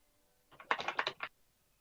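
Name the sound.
computer keyboard typing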